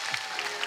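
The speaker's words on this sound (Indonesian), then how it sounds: "Tepuk tangan buat yang tertipu." A brief burst of audience clapping at a concert fills less than a second, a dense even patter of many hands at moderate volume with no voices over it.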